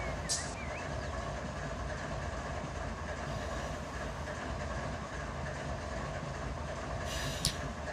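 A train coasting in the Run 8 Train Simulator 3 game on the A-Line produces a steady, continuous rolling rumble with a faint rail hiss, unbroken and even throughout, with no voices present.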